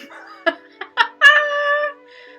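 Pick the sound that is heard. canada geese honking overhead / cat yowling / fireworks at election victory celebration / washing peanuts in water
cat yowling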